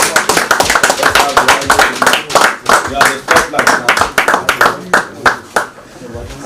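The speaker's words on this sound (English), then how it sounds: "please give her a round of applause" An audience at a public lecture for Nigeria's 65th Independence applauds a speaker, with dense, steady clapping that fades near the end while a voice speaks over it.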